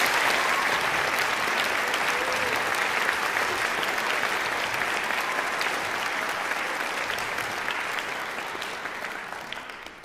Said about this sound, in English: if we could just offer a round of applause